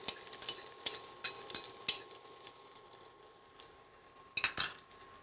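Mustard seeds and spices frying in coconut oil are stirred with a utensil, producing a soft sizzle broken by repeated light clinks and scrapes, ending in a quick pair of louder knocks.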